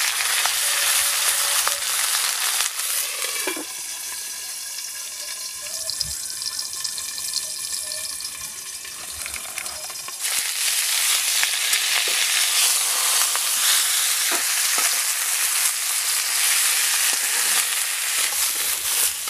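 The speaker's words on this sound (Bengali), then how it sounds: "আর যে দুটো বাঁধাকপি রয়েছে, এই দুটোকে একই রকমভাবে ভেজে নেব।" Cabbage pieces frying in a pan give a loud, continuous sizzle close by. The sound softens for a few seconds midway, then surges back to a dense crackle.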